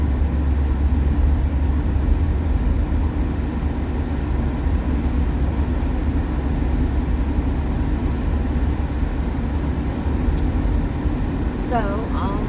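A car drives along a road, heard as a steady, loud low drone of engine and road noise from inside the vehicle. It runs unbroken throughout, with a few faint high chirps near the end.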